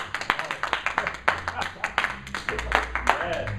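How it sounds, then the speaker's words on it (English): Audience clapping at a Latin jazz and salsa festival, individual claps ringing out in a loose, uneven rhythm right after a song, with voices mixed in among them. "Can we get a round of applause, please?"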